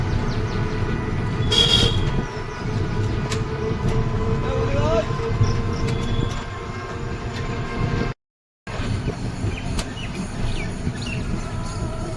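A train pulls in at Sanghati railway station: a steady, loud rumble of rolling carriages fills the scene, with a brief high squeal near the start and faint voices mixed into the noise, broken once by a short dropout.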